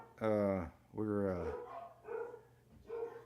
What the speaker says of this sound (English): We have a little bit of a dog problem